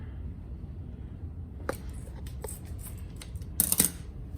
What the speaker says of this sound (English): So then all you have to do is cut the ends off,